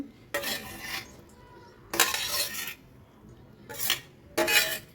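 Chopped onions, tomatoes and coriander dropped into a bowl for a breakfast dish made with oats, heard as four separate bursts of scraping and clinking cutlery against dishware, fairly close, with quiet pauses between.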